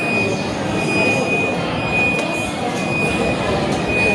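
A Mumbai underground metro train pulls into the station with a loud, steady rumble of wheels and motors. A faint high whine runs under it, soft rail squeals cut through, and voices murmur in the background.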